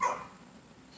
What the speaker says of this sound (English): I don't know if y'all can hear that, but that's my dog.